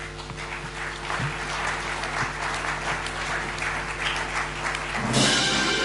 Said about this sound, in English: We probably need a little bit more of an enthusiastic applause for them.